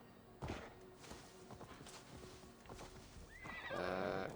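A horse in the Assassin's Creed Valhalla video game whinnies and neighs near the end, after a run of clip-clopping hoofbeats and thuds, heard fairly close over a low game backdrop.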